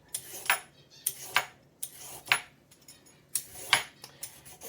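Vegetable peeler scraping down a carrot in a home kitchen, five or six quick rasping strokes at an even rhythm, close and fairly quiet with short pauses between.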